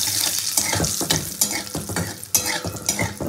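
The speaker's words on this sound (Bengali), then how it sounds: "ফোড়নটা খুব ভালো করে ভেজে নেব।" Panch phoron spices frying in hot oil in a pan for a light vegetarian dish, a steady crackling sizzle with scattered sharper pops and occasional stirring scrapes, close and continuous with no talking.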